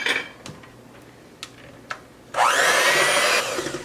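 An electric mixer starts up and whirs steadily, blending a third of a cup of milk into chocolate cake batter in a bowl, preceded by a few soft clicks and taps.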